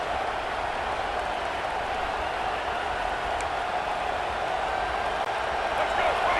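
Stadium crowd noise from the EA Sports College Football 26 video game: a dense, sustained roar from a fired-up crowd, steady and fairly loud throughout, with no distinct claps or chants standing out.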